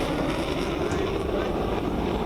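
Indian Air Force fighter jets pass over the Ganga Expressway, a steady, dense rumbling roar that fills the whole stretch without letting up.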